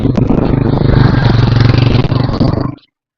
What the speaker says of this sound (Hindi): अंकल यहाँ से बाइक लेके गए।